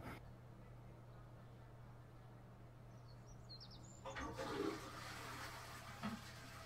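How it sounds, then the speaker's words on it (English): A toilet flushes partway through, a rushing swell of water over a steady background hum, with faint bird chirps nearby. "Did he just flush the toilet to get water?"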